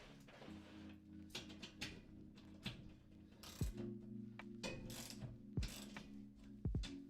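A hand ratchet tightening bolts fitted with lock washers onto a server rack in a closet, with bursts of rapid clicking pawl strokes and occasional metallic clunks, close and fairly quiet.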